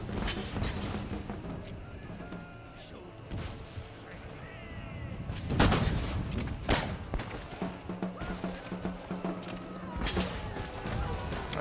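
Musket volleys in Empire Total War, a battle as Russia: repeated sharp cracking gunfire and thuds over a continuous battlefield din, with someone talking throughout.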